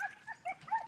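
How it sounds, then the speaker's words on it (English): Dogs bark and yip in a quick, faint burst, somewhat distant and muffled, with a couple of short high yelps. "my dogs are barking pretty loud"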